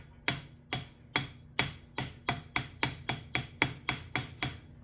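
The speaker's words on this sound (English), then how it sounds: "we're just gonna give her some taps" A hammer taps on the crankshaft bolt of a Suzuki DRZ125 during magneto removal, thirteen sharp metallic strikes in a steady, slightly quickening rhythm, close and clear with a faint hum between blows.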